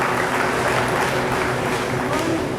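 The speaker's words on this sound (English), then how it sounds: "Give your Semitol exhibitors a round of applause." Spectators at the 2013 Illinois State Fair junior beef show clap for the heifer exhibitors, a continuous, even patter of many hands with faint voices mixed underneath.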